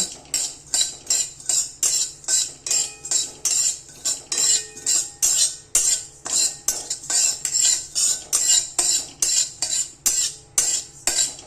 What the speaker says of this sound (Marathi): आता इथे हलकीशी साधारण खसखस भाजून घ्यायची.